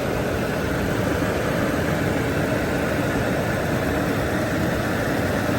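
An overheating Range Rover with a leaky radiator idles, its engine a loud, constant, rumbling drone held steady throughout with no speech over it.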